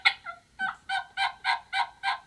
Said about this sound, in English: that's when the hen spoke up